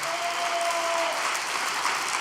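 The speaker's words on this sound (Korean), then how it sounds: "우리 수성교회를 위해서도 격려의 박수를" A church congregation applauding, dense steady clapping from many hands filling the room throughout.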